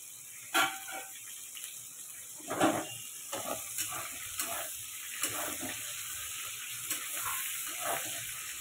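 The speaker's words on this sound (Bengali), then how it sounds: "টমেটোগুলো ভাজা ভাজা হয়ে যাবে।" Tomatoes frying in a little oil alongside potato and cabbage, a soft steady sizzle broken by a few sharper stirring scrapes and knocks, quiet and close with no talking.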